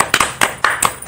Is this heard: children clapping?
yes